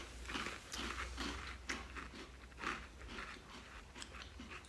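Crunchy Cini Minis Churros cereal in milk being chewed up close, a steady series of crisp crunching bites with no talking.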